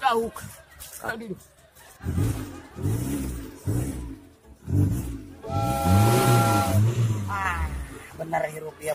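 A car engine catches and revs up, climbing in pitch, while several people talk and exclaim loudly over and around it.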